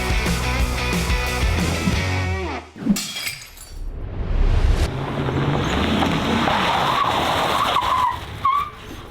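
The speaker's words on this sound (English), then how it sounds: "we're drifting smart cars" Smart car drifting, with tires skidding and screeching loudly in long squeals, a sharp cracking impact partway through, and the engine roaring underneath.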